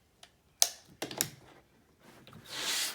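Rotary cutter slicing through fabric scraps on a cutting mat, a few sharp close taps and crisp cuts followed by a longer scraping slice, quiet and without talk.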